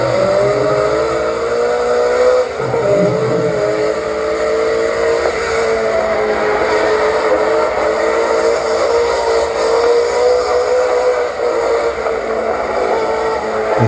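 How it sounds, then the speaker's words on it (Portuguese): Cars racing along a highway, a steady loud roar of engines and tyres that rolls on without a break, with no talking. "Em uma rodovia e eles estão disputando corrida"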